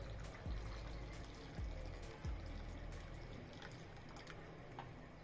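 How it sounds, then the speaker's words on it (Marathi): Homemade rose water pours and trickles through a cotton cloth into a glass bowl, a soft continuous splashing with a few low gurgling drops near the start. "आणि तयार गुलाब पाणी याच्यात गाळून घ्यायचं"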